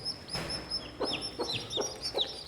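Native village hens and chicks cluck in a short run of sharp, evenly spaced calls with faint high peeping, close by and with no talking.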